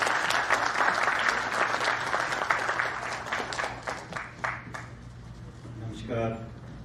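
Steady applause from an audience at a live community event, loud and sustained for several seconds before tapering off as a speaker begins to talk.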